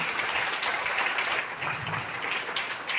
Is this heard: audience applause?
yes